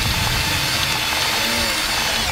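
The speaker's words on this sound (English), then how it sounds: "On a Milwaukee 18-volt drill, turning the bed over." A Milwaukee 18-volt cordless drill churns through the soil of a garden bed, giving a steady, loud, gritty whir with no pauses and no voices.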